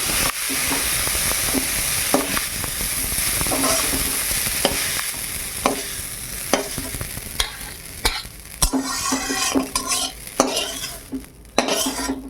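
Fritters (bora) frying in a pan on a clay stove in a village kitchen, a steady loud sizzle broken by sharp clinks and scrapes of a utensil stirring against the pan, close and continuous with no talk.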